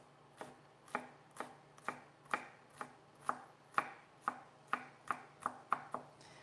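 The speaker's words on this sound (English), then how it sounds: "And we're going to cut these onions really bite size." A knife chops through an onion on a cutting board, cutting it into bite-size pieces with about thirteen crisp, evenly spaced strikes at close range and no talking.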